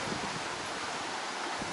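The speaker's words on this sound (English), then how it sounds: "the waves are pretty good today, as you can see" Ocean waves rolling in beside the Daytona Beach pier in Florida, a steady broadband wash of surf mixed with wind buffeting the microphone, with no voices.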